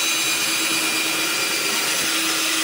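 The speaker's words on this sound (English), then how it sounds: "drill through and get my pilot holes on each of these three marks" Power drill boring pilot holes through a vintage White Owl cigar box guitar, a steady high-pitched whine running close and loud for the whole stretch with no voices.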